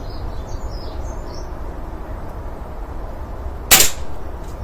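A Beeman air rifle fires a single pellet: one sharp, close crack that stands alone over a steady outdoor hiss, with faint bird chirps earlier.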